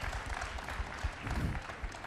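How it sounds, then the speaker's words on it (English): Steady audience applause fills a large hall at a BlizzCon StarCraft II panel, many hands clapping in a dense, continuous wash for the whole stretch. "definitely worth some claps"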